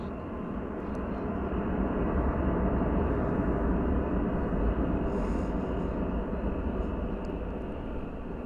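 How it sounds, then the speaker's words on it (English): A Boeing 747-400 arriving at DFW Airport from Anchorage, heard as a steady, loud broadband jet roar that holds evenly throughout without pause. "Arriving from Anchorage, 747-400."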